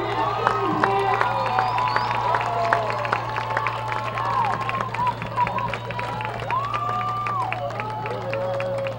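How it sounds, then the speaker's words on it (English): A football crowd at a homecoming game applauds the newly named homecoming prince and princess, with scattered clapping and cheers and a few shouts over a steady low hum. "Let's give them a huge round of applause."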